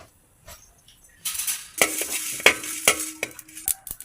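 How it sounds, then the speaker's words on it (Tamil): Seven dried red chillies rattle and sizzle in a hot pan, with sharp clinks of a metal spoon stirring against the pan. "ஏழு காஞ்சி மிளகா எடுத்துருக்கோம் அது வறுத்துக்கலாம்"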